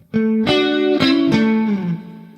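A distorted electric guitar plays a short blues lick, a few picked notes ringing out with sustain, no bends, and a slight downward slide at the end.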